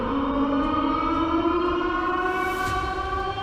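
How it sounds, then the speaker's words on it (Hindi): Loud alarm siren in a dramatic story scene, a steady sustained wail with layered tones that holds evenly throughout, alone without talk. "तेज सायरन बजने लग गया"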